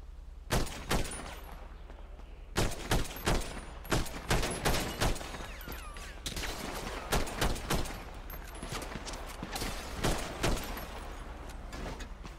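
Repeated volleys of gunfire from a role-play video game shootout, clustered bursts of sharp shots separated by short pauses, with a steady low hum underneath.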